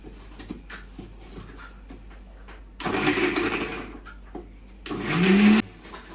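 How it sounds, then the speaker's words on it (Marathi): A mixer grinder grinds moong dal batter in two short bursts, a loud whirring motor roar that starts abruptly and cuts off, the second burst louder, with quieter kitchen handling sounds before and between the runs. "मिक्सरला एकदा फिरवून घेऊया।"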